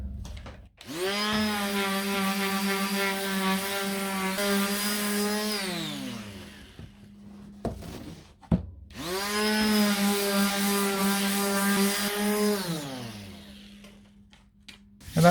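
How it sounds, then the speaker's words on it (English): A power drill bores holes through a vacuum-formed canopy, two long sustained whines each running several seconds with a steady pitch that sags and winds down, separated by a short pause and a couple of light clicks. "I've actually not gone right through with the drill, so let's rectify that."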